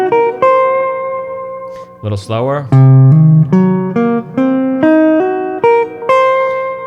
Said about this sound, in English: Like the arpeggio of the C half diminished sounds very good on its own.